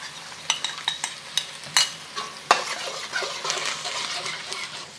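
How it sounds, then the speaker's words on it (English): Cornstarch slurry is stirred into a simmering stir-fry sauce for beef, bringing a series of sharp utensil clicks and scrapes against the pan, then a louder wet bubbling hiss with no voices. "Now that the sauce is starting to simmer, I'm going to add our cornstarch slurry."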